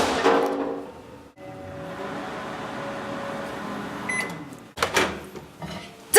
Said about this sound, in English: Get your microwave oven today.